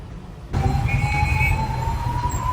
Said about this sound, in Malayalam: അതിൻ്റെ ഇടയിൽ ആംബുലൻസ് വരുന്നുണ്ട്